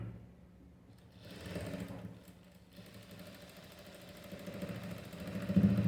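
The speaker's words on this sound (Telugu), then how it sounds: "ఇలా కింద నుంచి కూడా రెండింటిని కలుపుకుంటూ ఇలా ఎడ్జ్ కుట్టు అనేది వేసేయండి." A sewing machine runs steadily, stitching the edge of a blouse, a low mechanical hum and rattle that builds slightly in speed and loudness near the end, with no talking.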